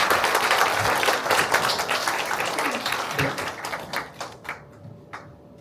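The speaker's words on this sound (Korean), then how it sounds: "귀한 말씀 해주신 우리 한미 선생님께 다시 한번 박수 부탁드리겠습니다" An audience applauds a teacher after her remarks, dense clapping at first that thins into scattered individual claps and dies away near the end.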